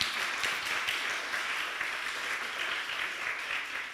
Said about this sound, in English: a big applause for...